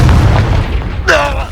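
A Confringo spell in Hogwarts Legacy detonates with a deep, loud boom that rumbles and fades, then a voice speaks right after.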